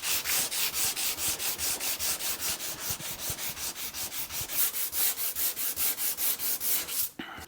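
A rosewood bass fretboard inlaid with mother-of-pearl markers is sanded with a 180 grit pad in steady back-and-forth strokes, about four per second, close and even, ending with a brief clunk.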